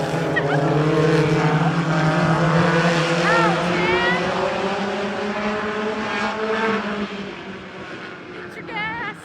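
Race cars at Plymouth Speedway accelerate at the green flag, a loud, sustained roar of multiple engines with rising whines from cars passing, and an announcer speaks over the noise.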